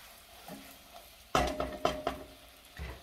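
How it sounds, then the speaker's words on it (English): A spoon stirs bacon mac and cheese in a pot on low heat, a soft mushy start followed by a few louder scrapes and clinks against the metal, close and quiet overall. "Now you can stir."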